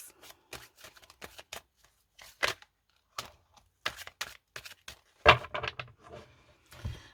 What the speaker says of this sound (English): Let me shuffle this up a little bit